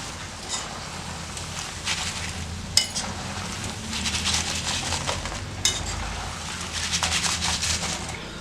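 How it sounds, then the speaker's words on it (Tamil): Kerala banana chips frying and bubbling in coconut oil, with a continuous close sizzle and foaming bubble, broken by a few clinks and stirs of a utensil against the pan. "நம்ம தேங்காய் எண்ணெய்லாம் போட்டிருக்கிறதுனால கொஞ்சம் பொங்கி வர மாதிரி இருக்குது."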